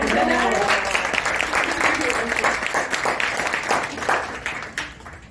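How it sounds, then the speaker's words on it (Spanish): An audience at a book presentation during the Guadalajara book fair applauds warmly in a steady, dense burst of clapping. A voice can be heard faintly beneath it, and the applause tapers off near the end. "un aplauso para Vero, por favor"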